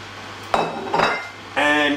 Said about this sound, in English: there you have your tortilla, slide it into the pan again